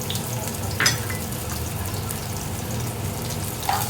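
Onion frying in oil in a pan for a temple-style sweet pumpkin sambar gives a steady, close sizzling hiss. A couple of faint clinks sound over it.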